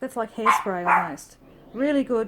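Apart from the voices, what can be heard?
dog barking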